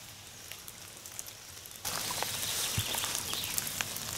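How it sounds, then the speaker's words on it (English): Light rain in the Forest of Dean during a woodland walk, a faint hiss that suddenly swells into a steadier patter with scattered drips, close and alone. "A little bit of rain"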